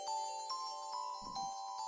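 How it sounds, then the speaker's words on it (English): A Streamlabs stream notification alert chimes: a short, bright, tinkling melodic jingle of several quick repeated tones, clear and alone over near silence. "I keep forgetting to shut off that Streamlabs notification"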